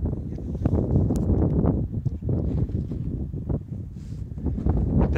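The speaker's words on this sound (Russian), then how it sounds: "Там ветер внизу шумит?" Strong mountain wind on the Tongariro Alpine Crossing roars steadily into the microphone, a loud, continuous low buffeting rumble with gusty surges throughout.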